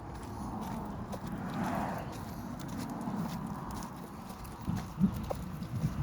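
A family of goats walks along a path in the hills of Portland, Jamaica, with soft scattered hoof steps on the ground under faint outdoor ambience and a few louder footfalls near the end.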